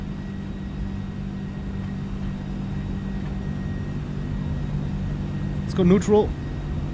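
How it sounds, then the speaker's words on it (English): Simulated TFDI MD-11 jet engines hold takeoff thrust in a flight simulator game, a steady, even drone with a constant low hum throughout. A brief voice cuts in near the end. "Takeoff thrust power is set"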